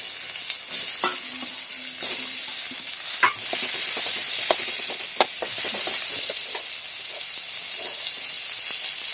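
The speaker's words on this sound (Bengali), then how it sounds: "এবারে এর মধ্যে দেব 3টে পেঁয়াজ কুচিয়ে রেখেছিলাম" Chopped onions fry in a pan with garlic paste, giving a steady loud sizzle across the clip with occasional clacks and scrapes from stirring, and no voices.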